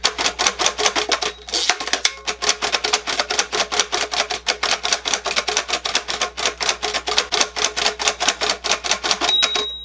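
Fast, steady typing on a mechanical Braille writer, a dense run of sharp clacking keystrokes in quick rhythm, close and alone, with a brief pause near the start.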